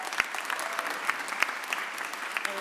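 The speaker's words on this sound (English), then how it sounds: "give them a round of applause," A crowd at a mayor's press conference gives a round of applause, steady moderate clapping with a few sharper claps standing out, heard from a short distance.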